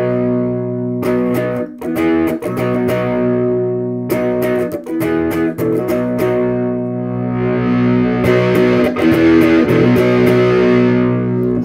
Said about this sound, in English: I can actually cut the distortion by turning down my volume.